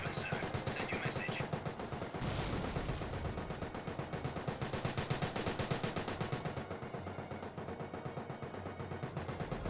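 Rapid gunfire, bursts and heavy mortar-like thuds from a Company of Heroes battle in which a Churchill AVRE's petard mortar fires, dense and continuous throughout under a commentator's voice.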